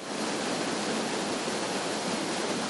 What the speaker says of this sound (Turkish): görüntüsüyle insanları mest eden küçük bir de şelale yer alıyor